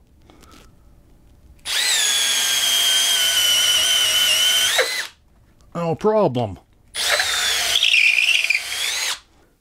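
A Milwaukee M12 Fuel Gen 2 drill running on a high-output XC5.0 battery whines loudly in two long sustained bursts, with a brief voice and short bits of clatter between them.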